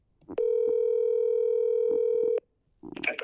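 A telephone ringback tone heard while calling someone: a single steady, clear two-second tone that stands alone after a soft click, followed by a brief voice at the end.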